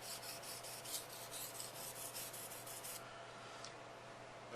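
A knife bevel is worked on a Nubatama whetstone, giving a steady close rasping scrape in quick repeated strokes that stops near the end, no talking.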